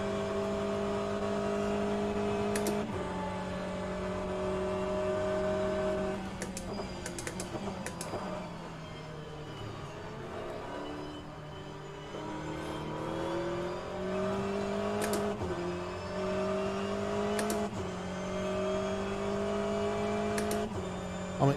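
An Aston Martin GTE race car in rFactor2 at Road Atlanta, its engine droning steadily at high revs with pitch dips at gear shifts, sharp ticks at each change, and a rise and fall through a slower section.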